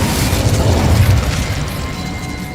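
A loud, booming fire-spell blast from Hogwarts Legacy, heavy low rumble swelling in the first second and then rolling off into a sustained roar with no talk over it.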